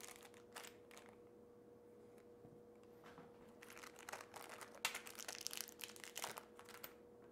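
Quiet crinkling of cellophane coin packaging comes in short bursts, crackling louder toward the end as it is handled and torn open to remove proof coins.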